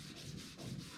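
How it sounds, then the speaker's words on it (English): Wet-and-dry sanding of car paintwork makes a close, steady abrasive rasping stroke, quiet and continuous over one second, with slight back-and-forth swells. "I'll carry on wet and drying this whole thing"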